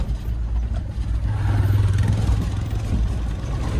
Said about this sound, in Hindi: ये बाइक आ रही है